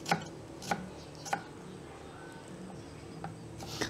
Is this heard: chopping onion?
yes